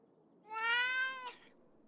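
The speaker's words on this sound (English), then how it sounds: "Is that a cat?" A single close, clear cat meow, rising then falling over about a second, alone against a quiet room with no talk.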